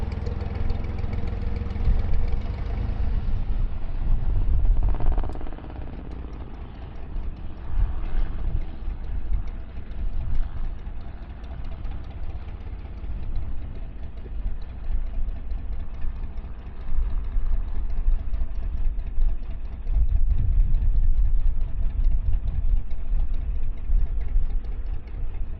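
Narrowboat diesel engine on the River Thames at Henley, chugging steadily at close range as the boat spins round and reverses into a mooring, its note swelling and easing with throttle changes.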